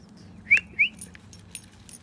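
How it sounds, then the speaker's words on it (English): A person whistles to call a lost dog outdoors, giving two short rising whistles in quick succession, fairly close, followed by quiet background. "I can whistle at him"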